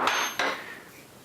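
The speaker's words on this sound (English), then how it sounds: "You're going to whack this with the hammer." A hammer whacking a steel rod to pierce a CO2 powerlet in a Sheridan EB CO2 pistol, two quick close metallic strikes with a bright ringing decay.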